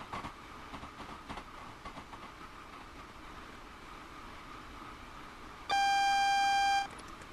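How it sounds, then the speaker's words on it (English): Cab warning alert on a Class 166 train in Train Sim World, a steady loud electronic beep tone sounding for about a second over the low rumble and rattle of the moving train. "These alerts are coming up quite often, I suppose, because we've got yellow signals ahead of us."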